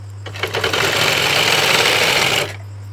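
Electric sewing machine stitching a fabric sari border, a steady close whirring run of about two seconds that starts and stops abruptly over a low mains hum.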